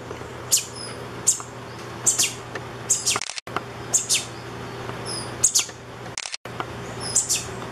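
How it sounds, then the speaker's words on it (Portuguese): A sparrow chick that fell from its nest chirps in thin, high peeps. The chirps come close in irregular bursts of one to three over a low steady hum, with two brief dropouts. "Que assim é um pardalzinho."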